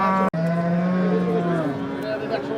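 A cow at a cattle market gives a long, loud, close moo that drops in pitch midway, with faint crowd noise and a brief cut near the start.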